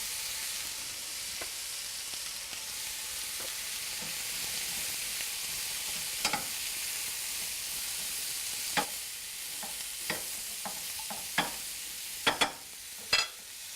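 Fresh mushrooms sizzle in a hot stir-fry pan with lime juice, a steady bright frying hiss broken by sharp spatula clicks and scrapes that come more often toward the end.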